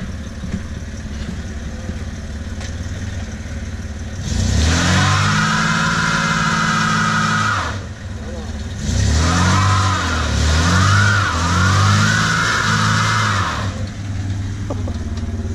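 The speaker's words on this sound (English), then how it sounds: "he can make both tires spin on a one-wheel peel vehicle" Mopar car attempting a burnout with burnout lube on a one-wheel peel setup, engine revving hard in two long loud bursts with rising and falling pitch, separated by a brief drop back to a lower idle rumble.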